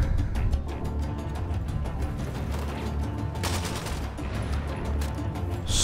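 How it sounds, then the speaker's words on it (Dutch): Rapid gunfire from an airsoft-style rifle in Battlefield 4, a dense continuous burst of shots with a sharper crackling flurry midway, loud and steady throughout with no talking. "Alweer die dude met zijn goddamn airsoft geweer."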